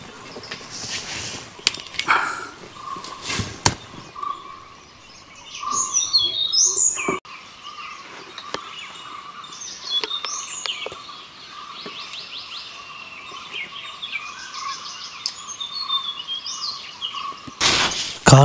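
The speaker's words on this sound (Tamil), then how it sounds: "காட்டோடைய சத்தமே ஒரு பயத்தை ஏற்படுத்துது" Forest ambience in tiger country, with birds chirping and calling at moderate distance over a soft background hiss, broken by a few sharp bursts of noise near the start and end.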